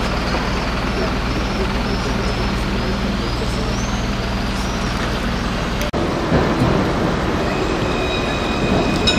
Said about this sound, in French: Le tramway de Montpellier.